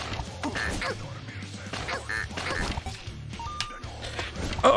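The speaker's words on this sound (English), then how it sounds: "duck is quacking at me" Duck quacks from the video game AK-xolotl, repeated honking calls mixed into busy game effects and background music, moderately loud, with a person talking over them.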